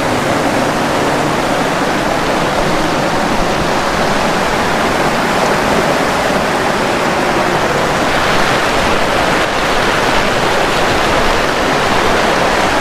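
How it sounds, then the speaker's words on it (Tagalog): Storm surf from Typhoon Kristine under Signal No. 3 surges up a beach and floods the sand, heard as a steady, loud roar of crashing and washing water with wind, continuous and close throughout. "nilalamon na po ng tubig yung buhangin dito sa gilid"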